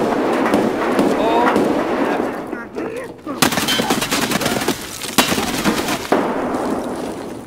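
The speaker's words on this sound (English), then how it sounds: "That was my nade." Grenade explosion in the Escape from Tarkov video game, a loud broadband blast with a rolling roar of debris and gunfire around it, heavy and near, mixed with game sounds.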